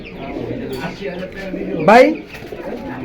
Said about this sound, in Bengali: কবুতরগুলো অনেক সুন্দরই